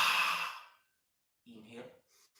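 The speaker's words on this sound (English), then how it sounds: "Inhale through the nose. Exhale through the mouth." A soft, breathy mouth exhale during a yoga squat in a live beginners' sun salutation class, fading out, followed by a quieter second breath after a pause.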